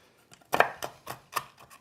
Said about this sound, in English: Sometimes with chopping peanuts or pistachios, they have a tendency to want to take off on you